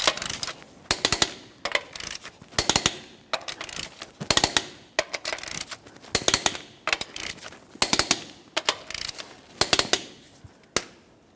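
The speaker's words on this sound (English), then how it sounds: "we can continue on torquing each one of our 21mm lug nuts to 150 foot-pounds in a crisscross manner" A torque wrench tightens 21mm lug nuts on a 2004-2008 Ford F-150 front wheel to 150 foot-pounds in a crisscross pattern, producing close, repeated bursts of sharp metallic ratcheting clicks separated by brief pauses.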